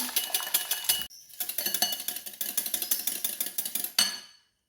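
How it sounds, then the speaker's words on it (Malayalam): Eggs are beaten by hand with a wire whisk in a bowl for a black forest cake made without an oven or beater: a rapid, steady run of bright metallic clinks, close and clear, with one short pause. "അപ്പോൾ നമുക്ക് ഈ മുട്ട ഒന്ന് ബീറ്റ് ചെയ്തിട്ട് വരാം"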